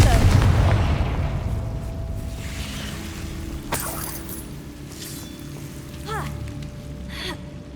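In the Hogwarts Legacy video game, a spoken Confringo explosion spell lands with a heavy booming blast at the start that decays into rumbling debris and scattered crackles, then a few sharp magical whooshes.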